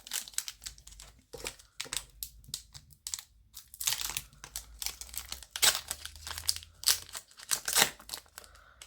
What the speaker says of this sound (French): nous allons ouvrir les boosters